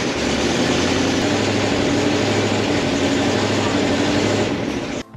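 A 1962 Ford Thunderbird engine, freshly started after its carburetor was cleaned, runs steadily with a loud, dense rumble and a continuous low throb that holds evenly before cutting off at the end.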